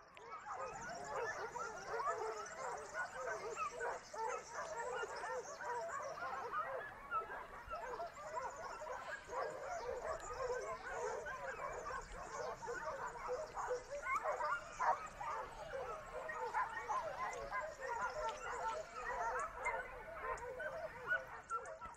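A pack of hunting dogs works through dense scrub on a wild boar hunt in Las Pilas, yelping and barking continuously in a chaotic overlapping chorus at a distance, with a voice speaking over it.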